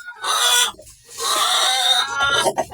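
Chickens cluck loudly and repeatedly at close range, in two long bursts separated by a brief pause, with a few shorter clucks at the end.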